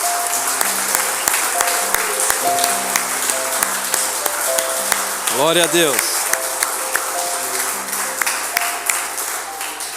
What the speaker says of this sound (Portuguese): Eu creio que Deus merece, irmão, uma salva de palmas.